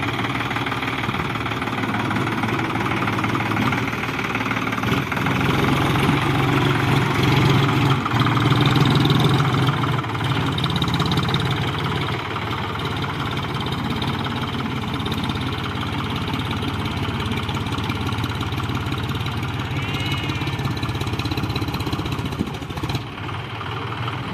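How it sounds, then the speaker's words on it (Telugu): A tractor engine idles steadily nearby at a construction site where gravel is being filled, its low, slightly knocking rumble holding even for over twenty seconds, with no talk over it. "ఇదైతే మన ట్రాక్టర్ అనమాట"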